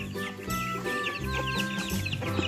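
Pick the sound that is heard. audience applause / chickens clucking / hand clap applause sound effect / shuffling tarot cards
chickens clucking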